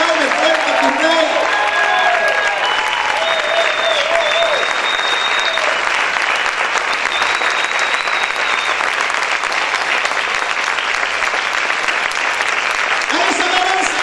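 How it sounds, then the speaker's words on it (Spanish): A church congregation claps hard and steadily in a dense, continuous wave, with voices shouting and singing faintly under the applause throughout. "Aplaude fuerte a tu Rey."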